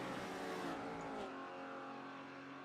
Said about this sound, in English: the BMW there still chugging along there